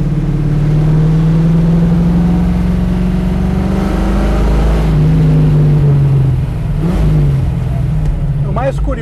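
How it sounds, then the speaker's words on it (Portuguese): A loud Ford Mustang Shelby GT500 engine rumbles steadily at close range, a deep throbbing drone, with a voice briefly speaking over it toward the end. "Você consegue ouvir o motor aqui na frente"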